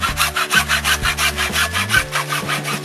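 A hand saw cuts steadily through glued plastic well pipe, with rapid, rhythmic back-and-forth rasping strokes, close and loud, with no voices.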